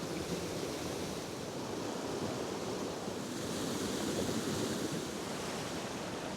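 Waves and white water rush in a continuous, broad roar at a coastal landscape photography spot, steady and fairly close, with wind mixed in and no voices.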